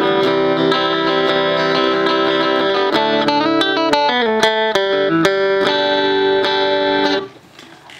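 Clean electric guitar plays ringing chords and plucked melodic notes at a steady pace, then fades out near the end.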